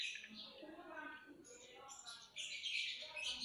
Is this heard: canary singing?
yes